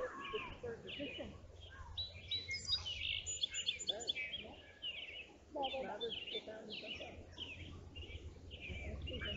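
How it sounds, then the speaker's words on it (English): Birds chirping and singing outdoors in Morrisville, Indiana during the 2024 total solar eclipse, a busy overlapping chorus of calls, moderately close, with people talking quietly at times. "The birds are still going. Listen."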